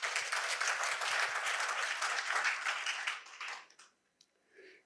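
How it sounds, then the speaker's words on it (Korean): An audience at a Korean lecture applauds with dense, steady clapping that holds strongly for about three seconds, then thins out and fades to near silence with a few stray claps at the end. "모든 이분을 위해서 박수 한번 주십시오."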